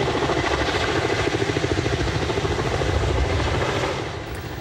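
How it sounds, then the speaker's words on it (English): A large helicopter hovers nearby over a lake, carrying a dangling aerator, its rotor chopping in a loud, steady pulse that eases slightly toward the end. "A large helicopter hovered above the water, dangling a new aerator for the lake."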